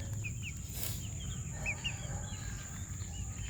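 Free-ranging backyard chickens out for a dust bath give a few soft, scattered chirps and clucks over a steady low rumble of outdoor background noise, with no one talking.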